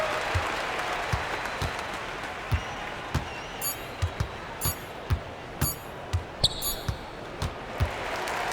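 A home crowd at a college basketball game applauding and cheering after a win, a steady wash of clapping and murmur with sharp ball bounces thudding at intervals, while a commentator talks over it.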